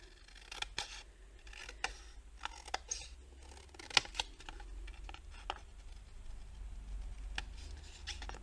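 Scissors snip through material for a custom phone case, a run of crisp, close cuts at irregular intervals over a quiet, low background rumble.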